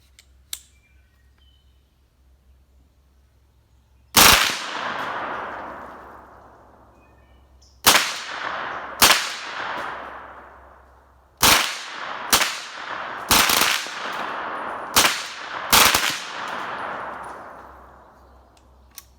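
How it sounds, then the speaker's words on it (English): A semi-automatic gun bump fires outdoors in a series of loud, sharp shots, first single reports with pauses, then quick clustered bursts, each with a ringing echoing tail. "I think it's just bump firing now because I held the trigger down and it didn't hold."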